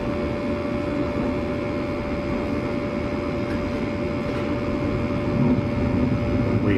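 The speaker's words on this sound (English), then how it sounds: "we got inducer motor" A newly installed gas furnace's inducer motor runs with a steady, loud, close whir and a constant tonal hum, unbroken throughout.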